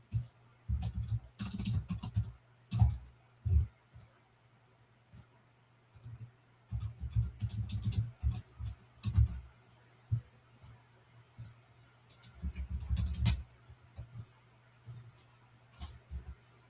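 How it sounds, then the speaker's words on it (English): Computer keyboard typing in bursts of quick clicking keystrokes with short pauses between runs, close and fairly quiet, with no talk during the typing. "Let me type this in here."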